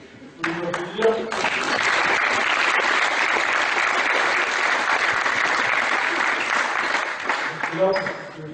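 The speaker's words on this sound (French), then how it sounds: "Vous pouvez m'applaudir." An audience at a talk on a transition game applauds for several seconds, a dense, sustained burst of clapping that swells in and tapers off, with brief voices near the start and end.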